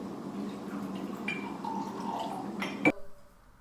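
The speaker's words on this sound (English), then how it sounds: "I had to hold the jug of water and like pour it into my cup" Water poured from a jug into a cup at home makes a steady, soft trickling rush that ends with a small clink as the pour stops.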